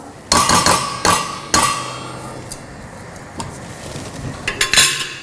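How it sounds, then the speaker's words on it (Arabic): A spoon stirring an eggplant stew in a cooking pot: a few sharp metallic clanks against the pot rim, then quieter scraping and a soft simmer, with light knocks returning near the end. "ورح حرك هون طبختي"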